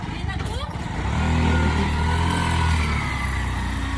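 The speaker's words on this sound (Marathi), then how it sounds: "निघली रिक्षा" An auto rickshaw engine starts and pulls away on a road, its mid-pitched motor rising in level after a second, then holding a steady drone close by.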